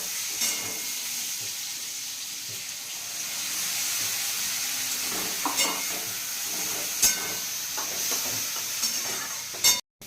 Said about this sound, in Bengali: এখন আমি পেস্টটা এর মধ্যে দিয়ে দেবো